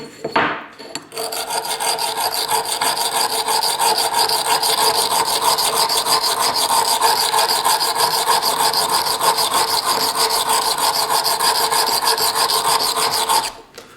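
A dull knife with a rounded tip being re-profiled on a sharpening stone, a continuous loud, close grinding rasp of steel on stone that runs unbroken for over twelve seconds before stopping abruptly.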